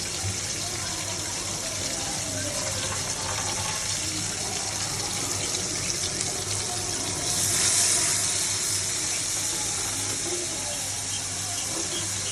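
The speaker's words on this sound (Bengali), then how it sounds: "এবার দেবো একটু পানি" Water poured into a spice mixture cooking in a pan, a steady loud gushing pour with a brief stronger splash midway.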